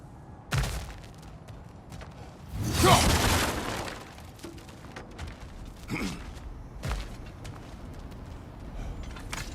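Objects shatter and crunch as they are smashed in God of War Ragnarök, with a loud burst of breaking debris near the middle and scattered smaller cracks and thuds around it.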